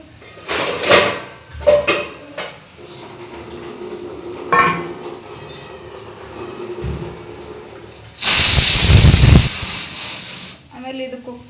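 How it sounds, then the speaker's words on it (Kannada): A pressure cooker whistle blasts as a loud burst of hissing steam for about two seconds, after scattered kitchen clatter of pots and utensils, with a voice speaking nearby. "ಕುಕ್ಕರ್ ಸೀಟಿ ಹೊಡ್ಯಾತೈತೆ ಹಂಗೆ"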